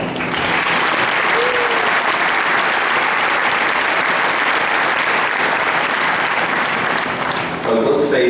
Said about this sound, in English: we should give the administration a huge round of applause